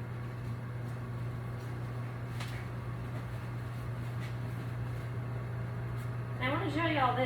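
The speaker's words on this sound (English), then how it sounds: "I'm choosing the roast setting. It's automatically sets it for 375, and I'm just gonna bump this up to 12 minutes" An air fryer runs on its roast setting at 375 degrees, giving a steady low hum and fan whir for several seconds before a voice briefly starts at the end.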